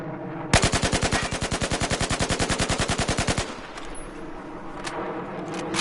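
A carbine rifle in Battlefield 4 fires one sustained automatic burst of roughly thirty rapid, even shots at a shooting range, loud and close, then stops, leaving faint clicks and handling noise.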